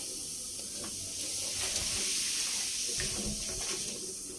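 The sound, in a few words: hot water poured from tap for cleaning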